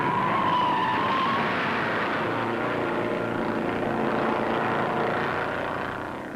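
1958 NASCAR Grand National stock cars race on the Daytona Beach road course, making a dense, continuous roar of many engines passing close. The roar stays loud and steady, then fades slightly at the end, with no talking.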